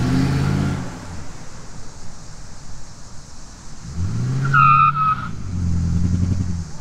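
An old car skids and loses traction, tyres squealing in a sharp burst over the low drone of the engine revving and surging, loud and close.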